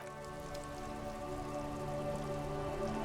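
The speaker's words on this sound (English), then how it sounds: "It's raining again." Steady rain falls in the video game Disco Elysium, a continuous even patter of drops lasting the whole stretch, with a low sustained musical drone beneath it and no voices.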